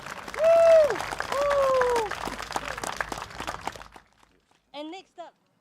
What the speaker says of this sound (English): can we once again give him a round of applause for that very, very impassionate plea together?